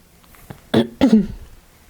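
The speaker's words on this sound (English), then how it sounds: "Sorry, I am going to be clearing my throat a lot." A person clears their throat twice in quick succession, close and fairly loud, with no talking.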